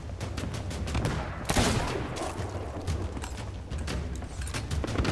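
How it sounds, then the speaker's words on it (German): Rapid bursts of video game gunfire from Sea of Thieves crackle in quick succession with a sharp blast midway, dense and continuous, no talking over them. "Jeder Schuss ein Treffer."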